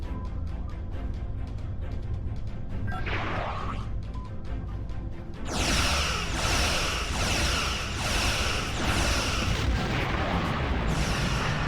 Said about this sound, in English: Quantum torpedoes, full spread.